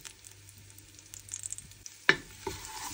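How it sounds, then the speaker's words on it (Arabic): Spice paste of harissa, chili, garlic, caraway and cumin frying in ghee and butter for an Algiers-style stew, a soft steady sizzle with light stirring scrapes and a sharp clatter near the end. "قضي شويه هذيك الدرسه في السمن والزبده"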